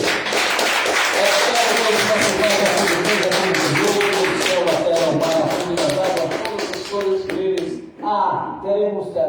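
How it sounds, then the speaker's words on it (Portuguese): Congregation applauding in a church, dense sustained clapping with voices mixed in, loud and close, thinning out toward the end. "Bem, aplausos, vamos agradecer."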